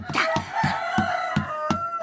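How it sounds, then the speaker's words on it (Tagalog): Chickens cluck and call in a rapid rhythmic series, close by and fairly loud, with no talking over them. "kadamo pa sa mga manok ya dire"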